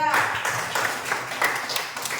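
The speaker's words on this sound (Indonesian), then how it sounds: "Tepuk tangan buat kelompok 3." Pupils in a classroom clap for a group after its presentation on a healthy food menu: brisk scattered handclaps from several children, close and fairly loud, with some voices mixed in.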